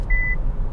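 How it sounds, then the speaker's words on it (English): An MG4 EV's lane keeping assist gives a thin steady electronic beep, held briefly and then starting again, over the low rumble of the car driving on the road. "If you are approaching the dotted line on the sides, it will indicate that with a beep"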